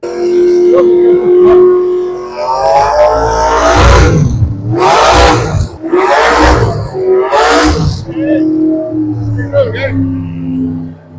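Vintage drag racing cars rev loudly at the starting line while being staged, with deep roaring bursts that swell and fall in repeated waves, close and powerful, and people talking over them.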